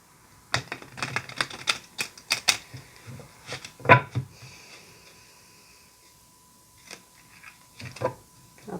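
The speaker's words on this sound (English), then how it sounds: "let me just give it one more good shuffle" Tarot of the Divine deck by Yoshitani shuffled by hand, a run of sharp papery riffling bursts and slaps with brief pauses between, close and fairly quiet.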